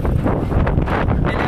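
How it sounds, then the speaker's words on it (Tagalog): Heavy wind batters the microphone during rainy weather in Ilocos, a loud, continuous low rumble with ragged gusting surges and no one talking. "Sa may Hanas, sobrang lakas ng hangin."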